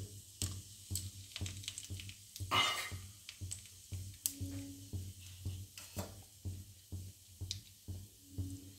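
Cumin seeds and two bay leaves tempering in hot oil for rajma give off quiet, scattered crackles and pops. A brief burst of sizzle rises in the middle, all of it soft and close.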